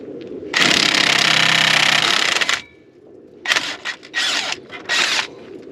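An Earthquake half-inch impact wrench, used while replacing a wheel hub on a 2007-2014 Silverado, fires one loud sustained burst of about two seconds, then three short rattling bursts after a pause, close up with no talking.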